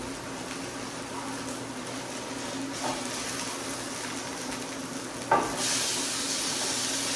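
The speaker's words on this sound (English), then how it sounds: "The pork one takes a little bit longer to cook because it's pork and bacon." Pork and bacon burger patties sizzle in a pan with a steady, fairly quiet hiss, broken by a couple of brief clicks and a louder burst of crackling toward the end.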